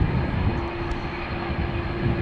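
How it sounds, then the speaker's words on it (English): Airliner engines roar as a Delta Airlines A330 makes an aborted takeoff at Schiphol Airport. The sound is a steady, heavy, low rumble with a sustained tone, heard from a distance and without talking. "Now, are we seeing an aborted takeoff here?"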